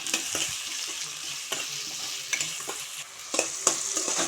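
Onions frying in oil with half a teaspoon of salt, a steady close sizzle with scattered stirring scrapes and clicks of the spoon against the pan, no voices.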